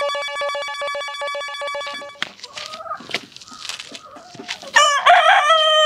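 A village rooster about to be sold crows loudly and close by, with one long crow at the start, a pause filled with scratchy clucking and movement, then a second crow near the end.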